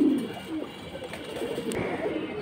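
Old-line bagha pigeons coo in a loft in low, throaty bursts over a steady background hum, with a few brief sharper sounds in between.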